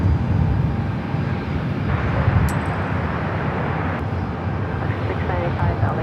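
A Lufthansa Boeing 747 at Los Angeles airport, with a continuous broad engine rumble holding steady throughout as someone talks over it.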